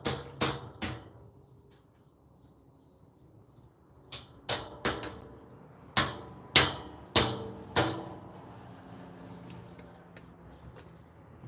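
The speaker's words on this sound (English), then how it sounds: "I like to use the claw of the hammer." Hammer claw prying and tapping on window trim during carpentry, a series of sharp percussive knocks and clacks, scattered at first then a cluster of four louder strikes, close and alone with no talk.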